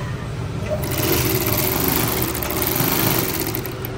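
Small Yamato or Pegasus overlock sewing machine runs steadily, a fast, even mechanical whir with a high buzzing hum, close and continuous after a brief quieter start.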